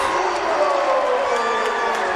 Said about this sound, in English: It's got the Kearsarge crowd fired up.